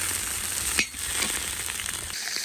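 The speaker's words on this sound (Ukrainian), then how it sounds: "Осмажуємо наші реберця до золотого кольору." Pork ribs frying in a cauldron over an open campfire until golden, giving a loud, constant sizzle with a brief dip and crackle partway through.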